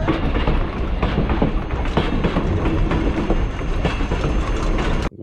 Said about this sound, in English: Riding steam train!